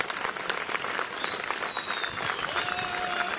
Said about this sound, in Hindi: खड़े होकर के एक बार ताली बजाएं